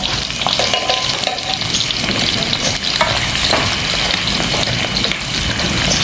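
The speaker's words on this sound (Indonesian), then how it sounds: "Dari jengkol, goreng jengkol." Jengkol frying in a pan sizzles and crackles loudly and steadily, with occasional clinks and scrapes of stirring, heard close up with no talking.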